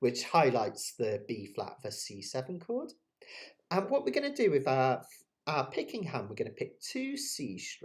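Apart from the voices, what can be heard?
None of the usual background noises is heard.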